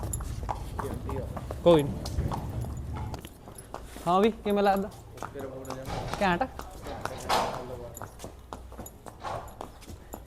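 Hooves of a mare clip-clop unevenly while a new rider sits on her for a ride, the steps mixed with loud outdoor voices and chatter that run through the whole stretch.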